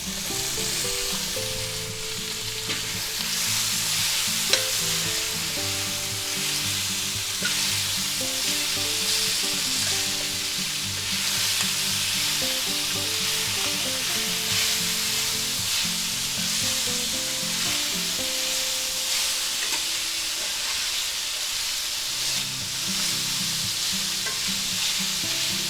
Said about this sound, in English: To that, we're going to add our baby carrots.